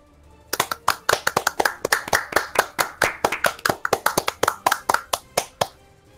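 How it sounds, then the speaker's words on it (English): A single person claps by hand in a quiet room, giving about two dozen sharp, evenly spaced claps at close range that speed up slightly before stopping. "I want everybody to give a round of applause"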